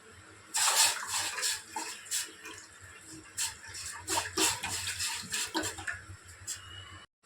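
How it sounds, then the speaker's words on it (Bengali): Water boiling in a cooking pot during snack preparation, heard as irregular bubbling and splashing bursts with a few clinks, close and moderately loud throughout. "জলটা ফুটে উঠেছে"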